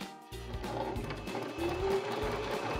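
A Baby Lock Zest sewing machine top stitches around a cuff with a quiet, steady mechanical whir and a few short pauses, close and alone.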